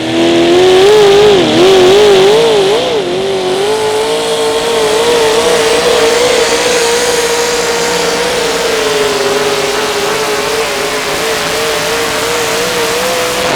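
Modified 4x4 pulling truck at an outlaw truck pull in Wisner, Nebraska, engine roaring loud and close as it revs up and then holds a sustained high-revving howl down the track.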